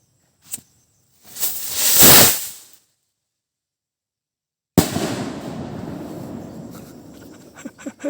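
Homemade Quitis firework rocket lit and launching: a brief pop, a rising whooshing hiss that swells and fades over about a second and a half, silence, then a sudden loud burst with crackling and rustling afterward.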